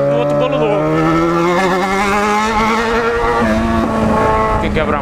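Yamaha XJ6 motorcycle with a straight-pipe exhaust, no muffler, revving loud and close with a steady rising engine tone, changing pitch as it accelerates on a street with speed bumps.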